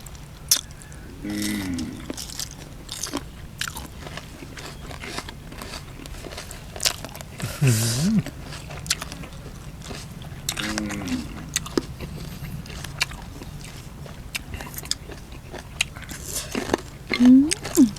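Loud close-up crunching and biting of crunchy chicken feet in spicy Thai papaya salad with rice noodles and fermented fish sauce, repeated bites and chewing crackles in irregular bursts with no talk.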